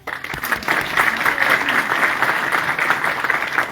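An audience at Imran Riaz Khan's speech bursts into sustained applause, many hands clapping steadily for several seconds at moderate distance.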